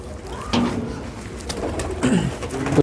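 Racing pigeons kept by a fancier coo close by, a few soft, throaty rolling calls over low background noise.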